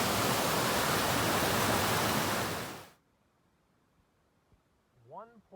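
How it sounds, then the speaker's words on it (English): A fast-running waterfall near a hiking trail gives a loud, steady rush for about three seconds before cutting off abruptly to near silence, followed by a brief voice. "so you'll hear the water"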